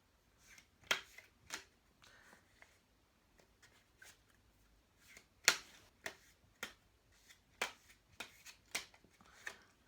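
Cards are shuffled and riffled in quiet, sharp bursts of crisp snapping and flicking, close by and irregular, with no talking.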